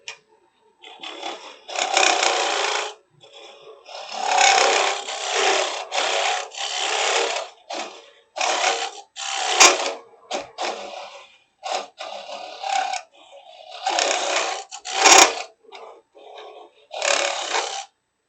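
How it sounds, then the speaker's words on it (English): A wood lathe turns a three-corner wooden box as the tool takes repeated scraping cuts, sounding in loud bursts of rasping wood noise separated by short pauses, close by. "So I can turn the lathe up just a little bit more, probably get a better cut."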